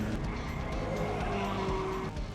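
A pure stock race car loses control on a dirt oval, its tires skidding and squealing in a sustained screech over the loud roar of engines from nearby cars.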